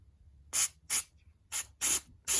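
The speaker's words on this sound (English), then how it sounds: "carb cleaner should be coming out of the nozzle" Carb cleaner sprays through the nozzle of a Harley Davidson CV carburetor in five short, sharp hissing bursts, close and distinct, with quiet pauses between them.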